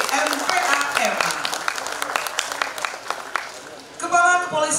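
An audience at a grand opening ceremony for an international ferry terminal claps in dense, crackling applause, with a voice over a loudspeaker speaking under it.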